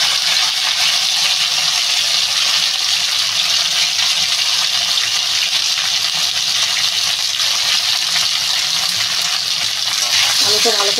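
Potatoes fry in a pan for a Bengali katla fish and potato curry, giving a loud, steady sizzle that continues without a break, with a little stirring near the end.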